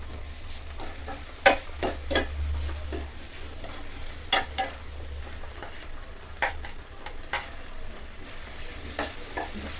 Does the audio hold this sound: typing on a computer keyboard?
no